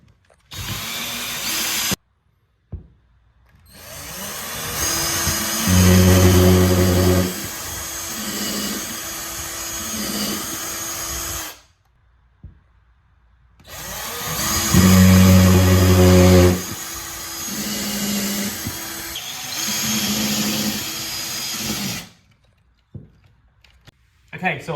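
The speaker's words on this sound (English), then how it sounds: "That's where the drill holes are going to happen." A power drill bores holes into drywall to mount the hooks of a pull-up bar. Two long, loud, steady whirring runs, each rising and dipping in pitch, are separated by quiet gaps with faint rattling.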